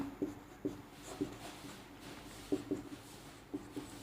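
A pen writing a label on a diagram, faint soft scratchy strokes in short separate bursts with pauses between, quiet and close, with no voices.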